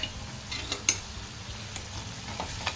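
A spoon scrapes and stirs chana curry thickened with gram flour in a pan: soft, irregular strokes over a faint, steady sizzle, with a few sharper clinks against the pan.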